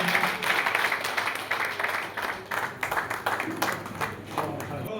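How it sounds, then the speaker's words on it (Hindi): An audience at a community gathering and felicitation ceremony applauds. The clapping comes in uneven surges with distinct nearby claps, builds and dips over several seconds, and carries a faint hum of voices underneath. "जोरदार तालियां आपकी गूंजती रहनी चाहिए।"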